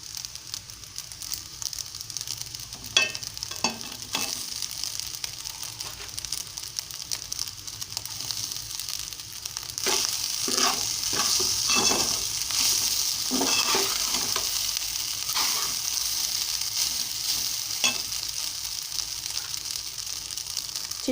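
Curry leaves crackle and sizzle in hot oil in a pan of frying rice, a continuous spattering hiss broken by repeated scraping stirs that swell louder in the second half.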